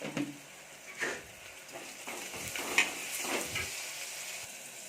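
Onion and tomato frying with rock salt in a pan for a village-style crab gravy, a soft steady sizzle with a few faint stirring scrapes, heard close and without voices.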